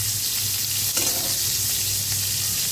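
Vegetables frying in a pan with a constant close hiss of oil and a single brief stir or clatter near the middle, no talk.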